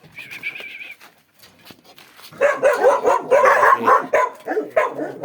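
A young dog, about nine and a half months old, barks in a quick burst of loud, close, yelping barks with whiny tones, after a short quieter whine at the start.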